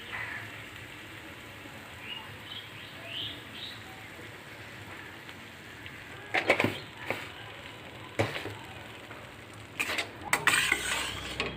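Potatoes and kakrol (spiny gourd) are stirred in a pan: a faint background gives way to a few clattering scrapes of a utensil against the pan in the second half.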